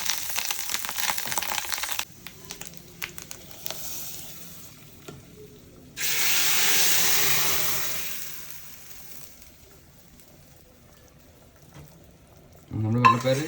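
Curry leaves hit hot oil with a loud burst of sizzling, followed by quieter stirring and scraping, then a second big hissing surge that fades out, and a final loud crackle as more goes into the pan.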